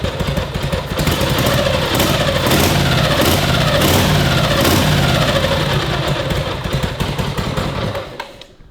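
A flooded WLA/WLC motorcycle engine sputters and runs rough, revving unevenly in loud surges before dying away at the end.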